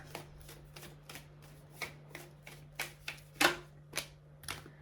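Tarot cards shuffled and drawn for a one-card reading, with about a dozen sharp, evenly paced card slaps and flicks close by over a low steady hum, no talking.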